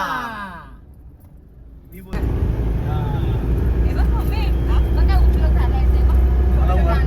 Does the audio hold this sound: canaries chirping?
no